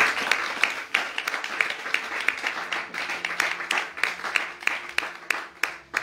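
A church congregation applauding and cheering for Jesus, steady dense clapping with sharp individual claps standing out, sustained for several seconds with faint voices mixed in.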